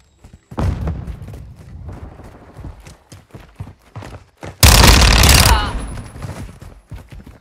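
Bursts of rapid gunfire in the Call of Duty: Modern Warfare II video game, loud and close, with staccato volleys, a heavy blast of sustained fire near the end, and some in-game voice callouts.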